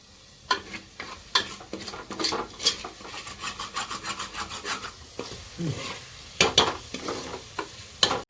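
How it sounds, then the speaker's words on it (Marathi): Masala for chicken curry fries in oil while a spoon scrapes and stirs it in repeated rhythmic strokes, close and distinct over a low sizzle. "तेल सुटणार ती मसाला भाजू दे"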